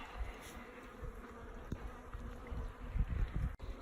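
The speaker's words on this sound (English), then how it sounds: "I got a sneaking suspicion this one's going to be loaded with bees too." Honeybees buzzing at an opened hive during a February check, a steady dense hum with a few louder close passes near the end.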